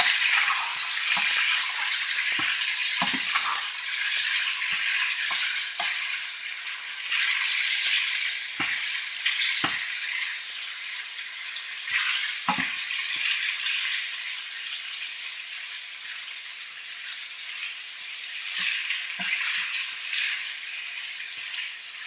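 Chopped shallots frying in a pan, a steady loud sizzle with scattered soft clicks and stirring taps throughout, no voices.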